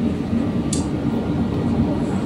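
Steady, loud rumble heard from inside a moving passenger train in Manila, a continuous low roar of wheels and carriage noise with a brief hiss partway through and no talk.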